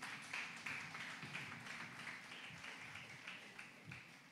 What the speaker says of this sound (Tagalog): Pumalakpak nga sa Panginoon.